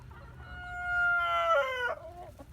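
In a pallet-fenced pen, a rooster gives one long, loud cock-a-doodle-doo while chickens cluck quietly underneath, with no people talking.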